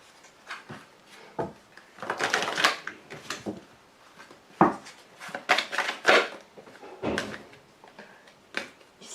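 Tarot cards being shuffled and drawn for a Taurus reading, a run of close, papery riffling and slapping bursts with short pauses between them, alone without talk.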